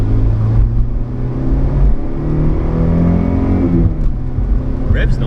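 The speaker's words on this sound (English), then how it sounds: "Revs nicely, doesn't it?" Turbocharged car engine revving hard, a sustained loud rumble with rising and falling pitch as the throttle is worked, heard close up without talk.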